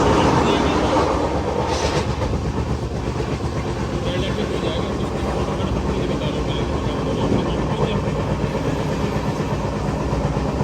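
Riding aboard a passenger train in France: a steady, loud rumble of the carriage rolling along the rails fills the whole stretch, with faint clatter and no clear breaks.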